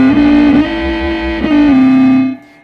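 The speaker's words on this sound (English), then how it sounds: "at full clockwise, we're going to get a lot more added distortion, harmonic distortion." Electric guitar through a Catalinbread Heliotrope pedal set to heavy harmonic distortion, a loud sustained buzzing note with rich overtones that holds and then decays.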